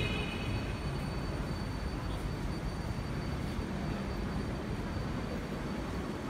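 A Hong Kong MTR subway train makes a steady, loud rumbling roar with a high whine running through it, heard from on board or close by. It is continuous and no one speaks.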